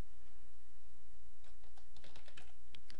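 Keys clack on a computer keyboard in quick irregular bursts, starting midway and continuing over a low background hum.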